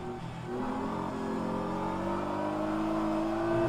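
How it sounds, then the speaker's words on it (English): Hypercar engine in rFactor 2 at Interlagos revving steadily and climbing in pitch, loud and continuous with a strained tone, no talk over it. "Come on, you hypercar, move."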